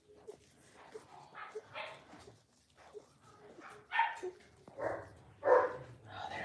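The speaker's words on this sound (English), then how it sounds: "And Dudley just barks." Dalmatian puppies about four and a half weeks old yip and whimper while an adult dog barks in short, separated bursts, several loud ones close by near the end.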